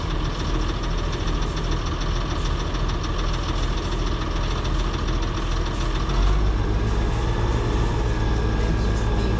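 Faltering engine idling with a rough, knocking rumble, then revving up slightly near the end, loud and close, with no clear speech.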